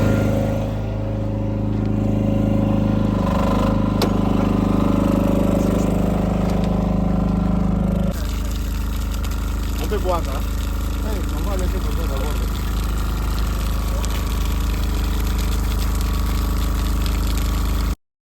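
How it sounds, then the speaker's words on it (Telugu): A generator runs to power an electric borewell water pump being installed in Africa, giving a loud, steady engine drone with strong low hum that shifts character partway through, while a voice talks over it. "సో జనరేటర్ స్టార్ట్ చేసి వాటర్ అయితే ఇప్పుడు స్టార్ట్ చేస్తాము"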